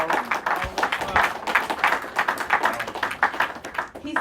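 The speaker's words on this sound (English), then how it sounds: "Let's please give her a round of applause." A crowd applauds steadily, dense clapping sustained throughout at a fairly loud, close level.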